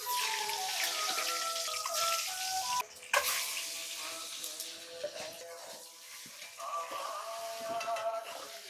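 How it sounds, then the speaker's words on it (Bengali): Pumpkin greens fry in oil in a pan, giving a steady close sizzle broken by occasional stirring scrapes and louder bursts of spitting. "নাড়াচাড়া করতে করতে শাকটা ভাজা হয়ে গেছে"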